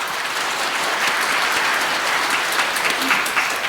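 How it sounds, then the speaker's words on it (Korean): A church congregation applauds the organist and viola player after a Sunday Mass performance, a steady wash of many hands clapping that holds evenly throughout at close range, with no talk over it. "감사의 박수 부탁드립니다."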